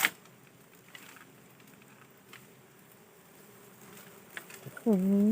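Dwarf honey bees swarm around a freshly cut nest, their faint steady buzzing hanging in the background throughout, with a louder close buzz swelling near the end.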